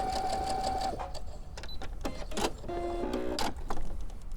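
A sewing machine stitches fabric in short, uneven bursts with brief stops and clicks between them, fairly close and moderately loud, with no talk.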